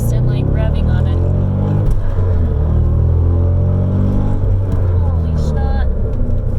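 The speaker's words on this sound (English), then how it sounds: "But if you're in first and revving on it." A 400 hp V8 in a manual car revs hard in first gear, giving a loud, close, rumbling drone that rises and falls. Voices talk over it throughout.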